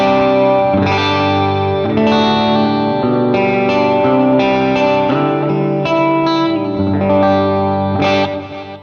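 An electric guitar played through a Line 6 AC15 amp preset from the Sunday Ready Pack strums sustained chords with chorus, echo and light distortion, shimmering and continuous with no talking.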